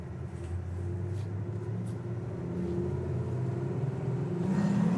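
A 1972 Oldsmobile Cutlass S with a numbers-matching 350 V8 gives a steady low engine rumble from inside the car that swells slightly as it accelerates, with no talking.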